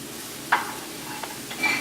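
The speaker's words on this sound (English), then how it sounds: "Add your garlic. A little stir. Add half of an eggplant." Chopped garlic and half an eggplant sizzling in a pan, a steady low fry with a few sharp scraping stirs of a utensil against the pan.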